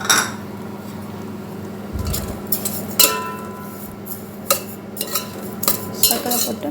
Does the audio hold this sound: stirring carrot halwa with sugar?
yes